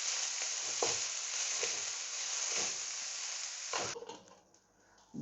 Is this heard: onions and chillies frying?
yes